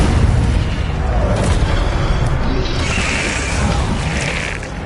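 Spell blasts explode in the Hogwarts Legacy video game, a dense run of loud booming bursts and crackling impacts layered over one another with no pauses.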